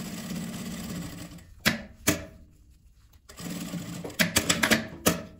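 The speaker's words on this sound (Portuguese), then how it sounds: "E dá um retrocesso e vem costurando," A sewing machine stitches fabric scraps for a table decoration in short whirring runs, broken by a quiet pause and several sharp clicks and taps from the machine.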